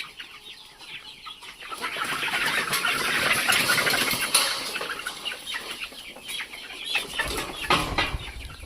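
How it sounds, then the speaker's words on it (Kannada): Free-range desi country chickens on a farm at Harohalli cluck and squawk nearby while feeding, with some wing flapping, a busy continuous flock chorus with no talk. "ಕೋಳಿಗಳು ನೋಡಿ ಎಲ್ಲ ಎಷ್ಟು ನೀಟಾಗಿ ಎಲ್ಲ ತಿಂತಾ ಇದ್ದಾವೆ."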